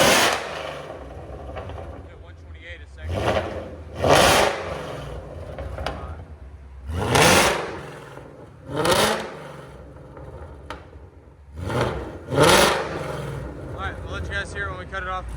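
A 675 hp supercharged Roush GT fitted with Valvetronics Designs universal valved mufflers, Borla ATAK exhaust and Corsa tips revs in a series of loud, close bursts separated by idling lulls.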